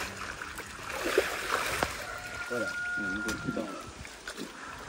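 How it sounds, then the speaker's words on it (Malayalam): A net of muddy village-caught fish is swished through water for washing, giving a steady nearby trickling and pouring slosh with small splashes, while a person speaks over it. "അന്ന് വെള്ളത്തിലിട്ടിട്ട് ഒന്ന് കഴുകി വൃത്തിയാക്കാനാ കേട്ടോ"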